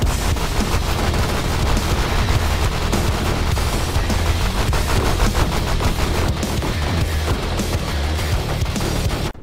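Foreshadow turret firing a sniper shot in the Mindustry video game amid a battle against an eradication base, heard within dense, continuous loud rapid gunfire and booming blasts that fill the whole stretch.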